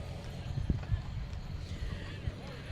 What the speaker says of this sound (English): miniature horses.